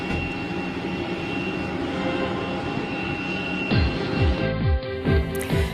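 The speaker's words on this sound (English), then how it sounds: "Videos on social media showed a plane crash landing and then speeding along the runway with flames pouring from its fuselage." A plane crash-landing and speeding along a runway with its fuselage in flames: a loud, steady engine roar, then a series of rhythmic low thumps and rattles as it runs over the ground.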